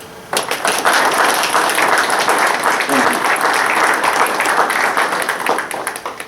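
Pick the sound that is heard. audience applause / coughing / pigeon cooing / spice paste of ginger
audience applause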